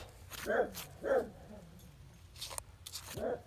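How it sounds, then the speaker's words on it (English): A dog barks a few times in the background, spaced sharp yaps at moderate distance, while a deer is being skinned nearby under quiet ambient noise. "Forgive our dog, he likes barking at everything."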